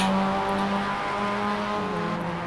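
Mazda race cars running in the iRacing sim on the Laguna circuit, a steady engine drone with layered harmonic tones as the cars warm their tires through a corner, continuous and fairly close with no talk.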